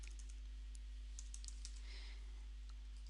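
Light, quick keystrokes on a computer keyboard, a short run of soft clicks that are quiet and close against a faint steady hum.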